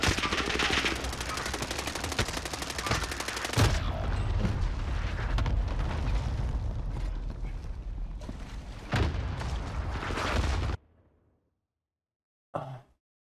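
Rapid automatic RAM-7 assault rifle fire in Call of Duty Warzone on the Caldera map, loud dense bursts running almost continuously with heavier impacts, then cutting out to near silence before a brief final burst.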